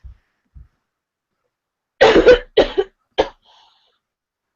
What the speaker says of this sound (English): my cough is only getting worse